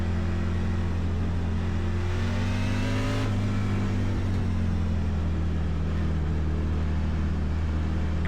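Racing trucks in a Truck Series race at Homestead-Miami roar as they accelerate together on the green flag, a loud steady engine drone with a rising pitch sweep, near and continuous with no talk.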